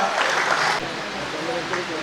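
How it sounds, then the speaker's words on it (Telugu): An audience at a Lions International regional meeting applauds in a steady, dense wash of clapping that holds at an even level for a couple of seconds. "please give a round of applause"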